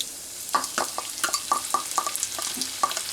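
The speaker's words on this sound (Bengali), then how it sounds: "এবার একটু 1 মিনিট ধরে আমি একটু মুগ ডালটা ভেজে নেব।" About 100 grams of washed, drained mung dal being dry-fried in a pan, heard as a quick series of roughly a dozen rhythmic spatula strokes and scrapes over a light sizzle, close up.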